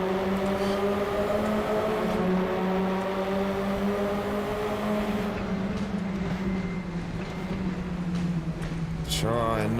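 Race car engines drone in the RaceRoom racing video game, a sustained tonal whine that slowly shifts pitch over nearly ten seconds, with a burst of other car noise near the end and no talking.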